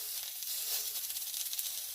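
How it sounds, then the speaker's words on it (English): Onion slices sizzle on a grill, a soft, steady hiss with light crackles, faint and unbroken throughout. "I'm gonna put a couple of slices of onion on here"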